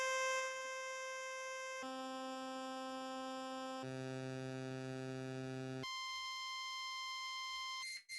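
Synthesizer playing a 12.5% square wave tone, a bright, buzzy pulse holding steady pitches in a short stepped sequence of four or five notes, each sustained about two seconds, clean and alone with no talk.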